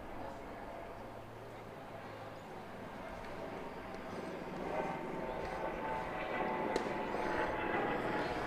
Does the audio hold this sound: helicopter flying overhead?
yes